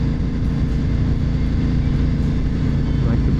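Cars passing on Highway 6 between Guelph and Waterdown, heard as a steady, loud low rumble of road and engine noise throughout, with no clear separate pass-bys standing out.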